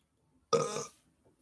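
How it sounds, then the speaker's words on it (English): A single loud, close burp from a person, sudden at onset and fading out over about half a second against an otherwise silent room. "Oh, sad for that burp."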